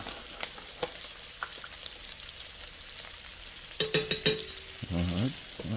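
Flour stirred into a pan while making chuck roast, starting as quiet scattered sizzling ticks, then a burst of scraping clinks from a utensil against the pan near the end.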